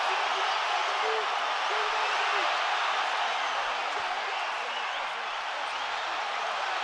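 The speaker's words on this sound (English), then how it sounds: "the crowd are going crazy" Loud, dense boxing arena crowd roaring and cheering without pause during the Canelo Alvarez versus Gennady Golovkin first fight, a steady wash of voices with scattered whoops and shouts.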